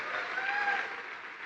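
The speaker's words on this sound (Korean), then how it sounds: "박수를 좀 짧게 치면 좋을 것 같습니다." Audience applause at a business seminar, dense steady clapping from a large crowd that holds at an even level and starts to thin near the end.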